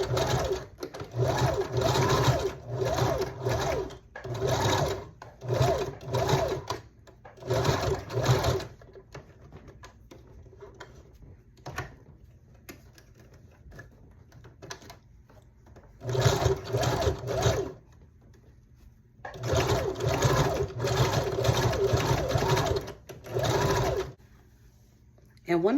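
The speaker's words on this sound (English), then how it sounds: "I'm just gonna run it back through the sewing machine" A sewing machine runs in several loud, rapid bursts, stitching doubled hair wefts for wig making, pausing between runs, with quieter handling noise and speech in the gaps.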